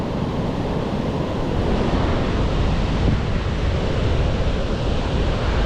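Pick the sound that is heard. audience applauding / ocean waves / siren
ocean waves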